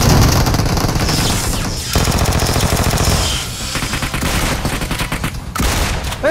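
Gunfire in the PUBG Mobile video game: loud, sustained automatic bursts rattling in rapid rhythm for several seconds, with short gaps between volleys and no talk over it.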